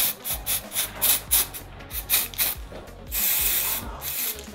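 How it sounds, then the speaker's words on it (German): A spray can hisses in a string of short rhythmic bursts during carnival at a digital print shop, ending in one longer sustained spray, close and alone. "Hoffentlich sprühe ich jetzt dein Bildschirm wieder an."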